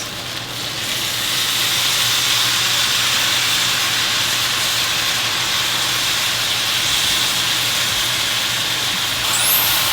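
Sauce poured into a hot wok of lo mein, a loud steady hiss and sizzle that swells within the first second and holds continuously close by, with no talking.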